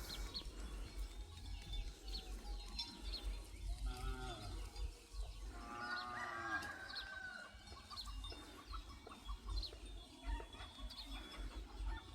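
A herd of cattle moos in an open rice field on a morning in rural Thailand, with several low calls spread across the scene at middle distance, mixed with chickens clucking and farmyard ambience.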